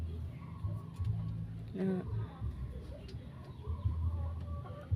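Hens cluck in short bursts around a farmyard, with a brief sharper call in the middle and people talking in the background.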